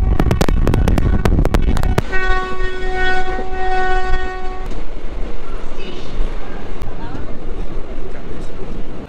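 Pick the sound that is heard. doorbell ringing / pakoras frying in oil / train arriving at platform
train arriving at platform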